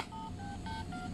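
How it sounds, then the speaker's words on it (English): A Dora toy phone gives a quick series of electronic button beeps, about four short tones in a row, close and clear with no talk. "this time it's a Dora phone."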